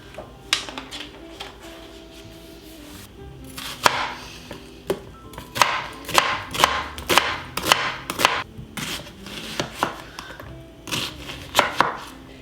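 A knife chops onion and bell pepper on a cutting board for pumpkin chili, a run of sharp, uneven strikes in quick bursts with short pauses, close and fairly loud over faint background hum.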